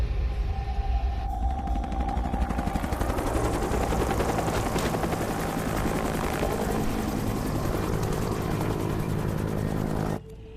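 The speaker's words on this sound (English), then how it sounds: "Just had two Mi-28s fly by." Two Mi-28 attack helicopters fly past with a loud, dense rotor chop and engine roar that holds steady for about ten seconds before cutting off abruptly.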